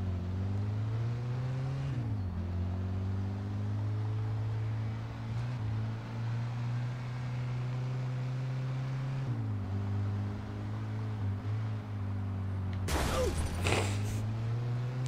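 A car engine in the Mafia 2 video game holds a steady drone with pitch dips as it revs and shifts, then ends in a brief burst of harsh noise near the end, without talk.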